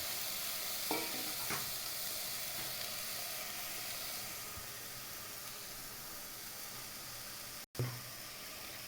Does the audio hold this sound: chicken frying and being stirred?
yes